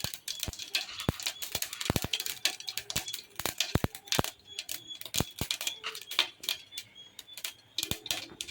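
Mustard seeds crackle and pop in hot oil for a Palakkad-style chicken curry, sharp scattered snaps at irregular intervals, close but fairly quiet, with no voices.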